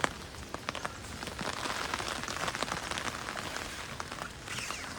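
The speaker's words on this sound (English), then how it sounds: "And yes, it's raining and it's pretty windy." Steady rain patters on surfaces outdoors in windy weather, a constant close hiss of drops with no voices.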